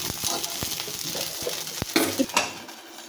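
Sorghum paniyaram frying in oil in a paniyaram pan, a soft sizzle with scattered light metallic clinks and scraping as the dumplings are turned, close by and fairly quiet.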